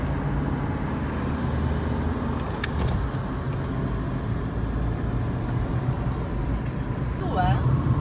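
Interior of a moving car with steady road rumble and engine drone, a brief jangle of keys partway through, and people talking over the noise.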